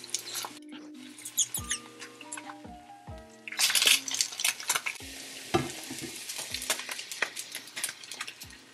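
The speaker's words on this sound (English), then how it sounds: "so I'm also making myself some eggs" Eggs cook in a pan at breakfast, a steady sizzle with repeated scrapes and taps of a utensil against the pan, close and moderately loud, over soft music with tonal notes and no talking.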